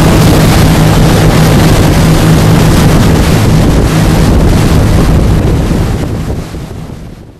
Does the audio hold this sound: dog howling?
no